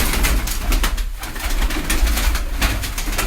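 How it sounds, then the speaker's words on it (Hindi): Sialkoti pigeons in a loft setup in Islamabad coo loudly and continuously at close range, a dense layered chorus of throaty calls with no speech. "सियालकोटी कबूतर देखने को मिलेंगे जी इस्लामाबाद में"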